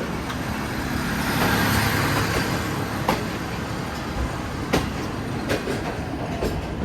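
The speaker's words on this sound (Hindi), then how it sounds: "हमारी ट्रेन इस वक्त प्लेटफॉर्म नंबर 3 पर लग रही है रावलपिंडी रेलवे स्टेशन की" A passenger train pulls onto platform 3 at Rawalpindi railway station, sending up a continuous rumble of rolling coaches with scattered clacks and knocks. The sound is moderately loud and close, and no voices are heard.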